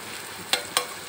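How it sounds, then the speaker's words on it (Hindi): Onions frying in a pan for spicy tawa keema, a brief close sizzle with two or three sharp scraping stirs of a spatula. "जब तक यहाँ पे हमारी प्याज फ्राई हो रही है"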